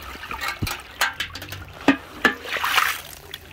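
Water pours and splashes out of a copper container outdoors, an uneven run of trickles and splatters at close range with no talking.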